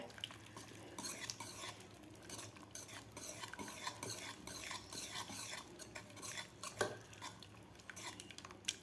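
Cooked taro leaves and lentils being mashed in a pot, a continuous run of soft scraping, squelching strokes and light metallic taps from a utensil, close and quiet, no voices.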